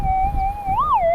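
A metal detector fitted with a 14-inch double D coil, used for gold prospecting in California, gives a steady, close target tone that briefly swells and warbles upward before settling back to its hum.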